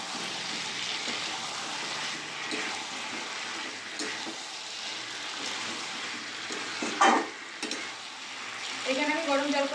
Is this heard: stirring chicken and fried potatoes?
yes